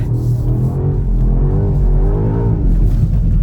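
A new BMW M5 accelerates on a wet road, and its engine note climbs loud and close, then dips as it shifts before pulling on with a deep rumble underneath.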